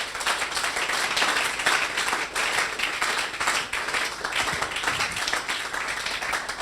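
A church congregation applauding during a sermon, dense continuous clapping from many hands that fills the room at a steady level throughout, close and lively with no pauses.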